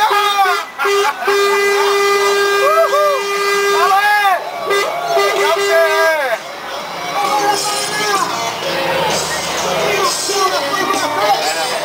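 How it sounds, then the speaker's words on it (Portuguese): A loud truck air horn blasts in several short and long honks with a slightly wavering pitch at a Fórmula Truck race in Londrina, then gives way to busy background noise and voices. "esse tem uma buzina nervosa ou não?"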